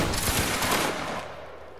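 A line of muskets in a video game fires a single volley, a dense burst of overlapping cracks merging into a loud roar that fades out over about a second.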